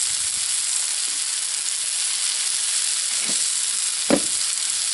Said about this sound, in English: Same sizzle, my friends.